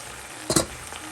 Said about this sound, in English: So now it's time to add our ackee.